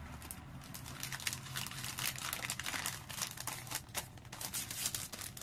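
Sheets of decorative patterned crafting paper crinkle and rustle as they are handled up close, a quiet, irregular crackling with no talk.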